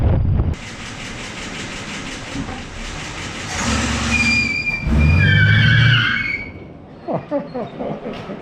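A 1965 Plymouth Fury II wagon engine runs with a rough rumble under gusting wind, rises briefly, then sputters and stalls out. Voices speak near the end.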